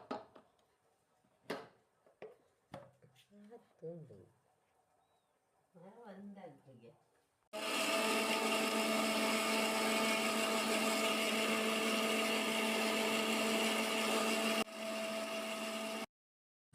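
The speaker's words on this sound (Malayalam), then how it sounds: "വെറും ബിസ്ക്കറ്റ് മാത്രം മിക്സി ജാറിൽ പൊടിയാവുന്നില്ല. അതുകൊണ്ട് കുറച്ച് പാലൊഴിച്ച് ബിസ്ക്കറ്റിനെയും പാലിനെയും ഒരുമിച്ചിട്ട് മിക്സ് ചെയ്യാം." A kitchen mixer grinder blends Oreo biscuits with milk in its jar, a loud steady whir running for several seconds, briefly dipping and resuming before stopping; speech and small handling sounds come before it.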